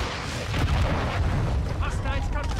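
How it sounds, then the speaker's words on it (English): A friendly cruise missile strike in Call of Duty Modern Warfare 2 multiplayer, heard as a heavy, rumbling explosion with deep booming and crackling debris, partly under game voice announcements. "Friendly cruise missile deployed."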